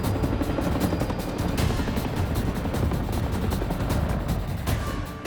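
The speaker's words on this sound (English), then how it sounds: "Areas of shallow water and flood zones around the lake are treated for mosquitoes by helicopter." A helicopter sprays mosquito treatment over shallow water and flood zones around a lake in Chiemgau. Its steady, loud rotor drone and engine noise fill the whole stretch without a break.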